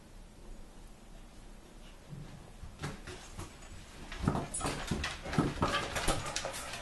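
Dogs push through a flap door one after another, with scrabbling paws, soft thumps and a faint whimper, quiet at first then busier.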